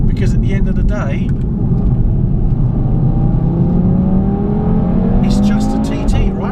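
A 2018 Audi TT RS driving hard, its engine droning loud and close as the revs rise steadily, with someone talking briefly over the start and end.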